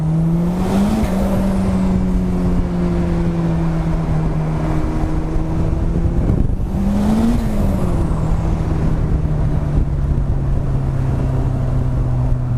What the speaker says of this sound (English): That turbo flutter is just so addictive to listen to.